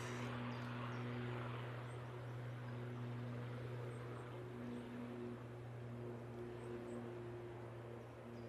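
Propeller aircraft at Manchester Airport, a steady droning engine hum with strong low tonal lines holding throughout, fairly close and constant, with no talk over it.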